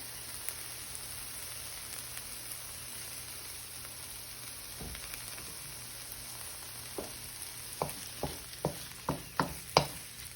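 Mixed vegetables and sesame oil frying in a pan for home-cooked hibachi: a steady, close sizzle with a run of sharp spatula taps and scrapes building toward the end, no voices.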